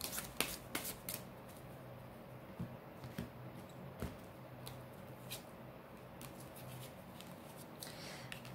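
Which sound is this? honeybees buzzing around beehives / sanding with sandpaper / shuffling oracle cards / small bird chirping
shuffling oracle cards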